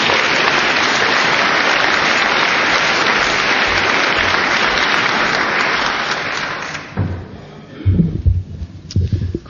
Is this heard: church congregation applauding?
yes